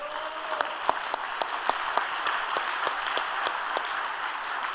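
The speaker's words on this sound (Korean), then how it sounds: "이 부모님에게 우리 박수 한번 올려드립시다" A church congregation applauds during a special overnight worship service, steady clapping with a few sharper claps standing out at moderate volume throughout.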